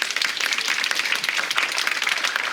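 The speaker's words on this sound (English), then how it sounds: "let's thank Dr. Chen one more time with your applause" An audience at a lecture on next-generation wireless communication applauds a talk, a dense, steady wash of clapping from many hands at moderate volume.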